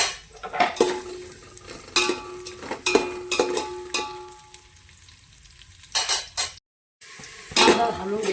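Chopped onion hitting hot oil in a pan for mutton biryani, giving short bursts of sizzle with clinks of a spoon against metal, several separate stirs, then a brief silence and a last louder sizzle.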